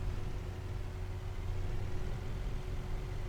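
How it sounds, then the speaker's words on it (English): Diesel engine of a MAN 18.310 Caetano bus, simulated in the OMSI 2 bus game, drones at a steady low pitch with a faint tonal hum. It sounds fairly quiet and even, with no clear surge in revs. "Let me just rev it up to about 1000 RPM."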